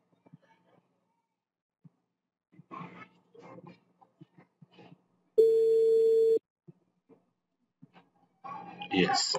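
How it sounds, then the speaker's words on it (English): A phone call's ringing tone from an iPhone linked to a Windows 11 PC plays through the computer's speakers as a single steady tone lasting about a second, with soft, sparse sounds before and after. "You can hear it's ringing"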